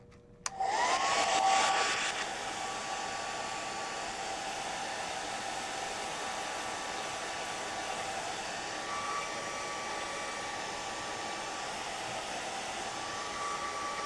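A hair dryer switches on with a sharp onset and blows steadily and loudly at close range to dry a gelli plate print, holding an even rushing hiss throughout with no talk.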